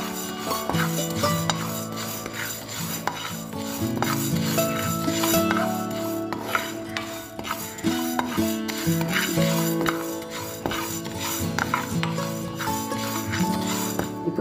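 Rice dry-roasting in a pan for homemade sambar powder, heard as busy scraping and stirring with repeated metallic clinks of a spatula against the pan, close and steady throughout without speech.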